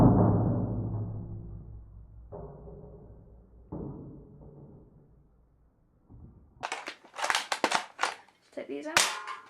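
Several airsoft gun shots strike a triangle of stacked cans: a fading ringing metallic clang, then a burst of sharp clattering impacts as the cans are hit and knocked about, close and loud, with no talk.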